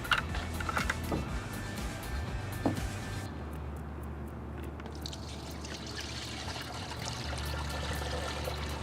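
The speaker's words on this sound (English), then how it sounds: "we want to pour our spray mix in through that filter" Liquid VectoBac WDG spray mix pours through the top filter into the tank of a Stihl SR450 backpack sprayer, a soft continuous trickle and splash, close and steady throughout.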